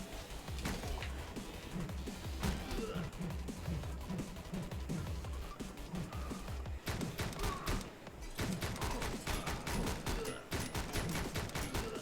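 Rapid video-game gunfire in the side-scrolling runner Speed Limit, dense continuous volleys of sharp shots over background game sound, with a short lull partway through before the firing resumes.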